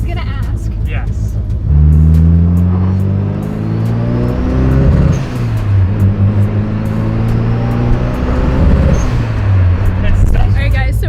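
A heavily cammed BMW M2 Competition with a loud modified exhaust revs hard at close range, rising in two long climbing pulls that each fall away, with people talking around it.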